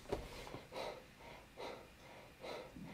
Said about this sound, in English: Man, I can hear you breathing.